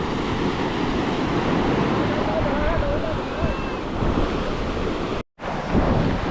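Strong sea current and waves rush in a dense, steady roar close by at sea, mixed with wind buffeting the microphone, with a brief dropout near the end.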